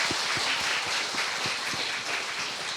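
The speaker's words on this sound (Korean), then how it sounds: "올해 한 해 동안 인도하신 우리 하나님께 박수 한 번 해드리겠습니다." A church congregation at a Sunday worship service applauds together, a steady wash of many hands clapping heard somewhat distant and moderately loud, with faint low thumps and no talking over it.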